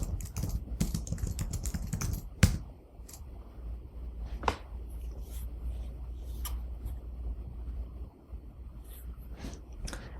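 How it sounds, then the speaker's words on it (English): Keys on a computer keyboard are typed in a quick burst as a password is entered, a cluster of close, crisp clicks followed by a few scattered taps over a steady low hum. "so I'll type that in here"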